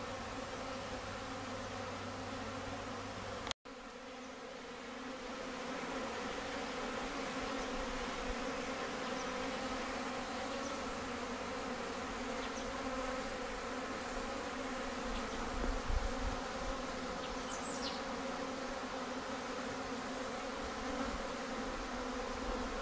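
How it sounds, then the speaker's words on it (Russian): A steady, dense buzz of many bees flying around sunlit wooden hives on a calm February day, continuous and even throughout, with a brief knock near the start and soft low bumps later. "Пчелы пользуются тихой погодой и летают."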